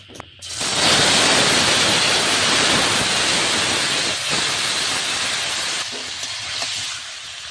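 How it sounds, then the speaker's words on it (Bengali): Meat pieces hit a hot pan with a loud, steady hiss of frying that fills the whole stretch, settling slightly toward the end. "তারপরে মাংসগুলো দিয়ে দিচ্ছি"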